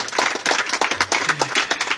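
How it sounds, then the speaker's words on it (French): Brief burst of audience clapping, uneven and somewhat sparse with distinct individual claps in a loose rhythm, fairly close and moderately loud over two seconds. "Applaudis."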